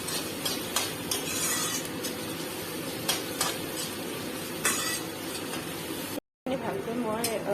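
Sliced onion sizzles in hot oil with garlic and ginger in a pan, a steady close crackle broken by scraping stirs and a brief pause.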